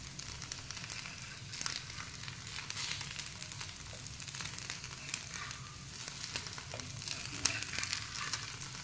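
Thin rice-batter neer dosa frying on a tawa makes a continuous, even sizzle with faint crackling. It stays close and low in level throughout, with no voices.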